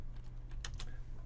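Several quick keystrokes on a computer keyboard while entering image-map coordinates into an HTML editor, a short close cluster of clicks over a steady low hum.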